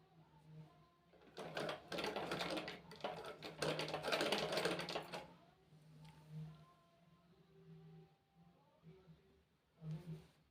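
Sewing machine stitching seams of men's underwear, running in a loud close burst of rapid needle clatter for a few seconds, then pausing, with someone speaking between runs and a short final burst.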